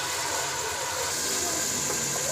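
Tomatoes added to hot oil for a mixed vegetable dish, sizzling as a steady, dense hiss that stays loud and unbroken throughout.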